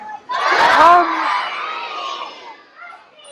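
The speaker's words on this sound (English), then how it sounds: "we want you all to yell, "Jump Murphy," and throw your arms in the air" A zoo crowd at a seal show shouts "Jump Murphy" together in one loud burst that fades quickly into scattered cheers and voices.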